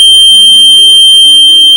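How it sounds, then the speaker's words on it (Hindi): Laser security alarm buzzer going off as the beam is touched, a loud, continuous high-pitched electronic tone, close and steady with no talking. "हमारा अलार्म चलना शुरू हो गया है"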